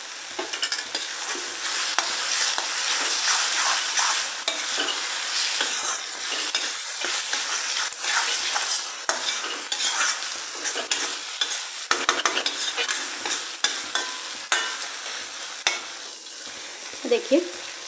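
Curdled-milk sabzi with green coriander is stirred in a frying pan, a continuous loud sizzle with repeated scraping and knocking of the spatula against the pan, close up.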